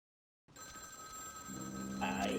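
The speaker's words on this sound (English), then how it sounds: "I hear a phone ringing" A telephone rings in Vampire: The Masquerade - Bloodlines, its tone starting abruptly after a moment of silence and holding steady at low volume, with a muffled low murmur rising beneath it toward the end.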